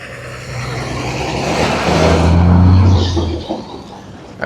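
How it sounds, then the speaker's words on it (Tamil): A bus approaches and passes by on the road over a bridge, its engine rising to a loud nearby peak and then fading away, with no talk. "போக்குவரத்து பஸ் வந்து வந்து கொண்டு இருக்குது இது வந்து புதுக்குடியிருப்பு யாழ்ப்பாணம் நோக்கி பயணிக்கின்ற பஸ்"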